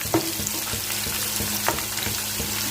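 Tapioca pakkavada fry in hot oil over a low flame, a constant close sizzle and bubbling with occasional light clinks of a stirring spoon.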